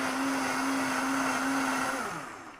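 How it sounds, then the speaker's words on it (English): A blender whirs steadily while pureeing tahini carrot soup, a loud, close motor hum with a sustained pitch that dips and winds down near the end, with no talking. "I'm going to turn the blender on just for a minute"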